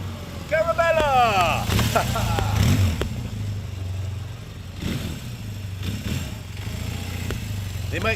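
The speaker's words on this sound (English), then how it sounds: "Little 400cc classic Kawasaki." A classic 400cc Kawasaki KZ400 motorcycle runs with a steady low engine drone that rises and falls as it rides, mixed with talk.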